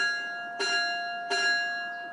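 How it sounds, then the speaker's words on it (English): A ship's bell rings out, two clear metallic strikes a little under a second apart, each leaving a lingering resonant hum that slowly fades. "3 bells. That's the signal. We'll be docking soon."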